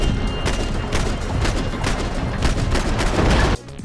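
Gunfire in the action game Max Payne 3, shooting down incoming rockets, with rapid, dense bursts of shots and thumps that stop abruptly near the end.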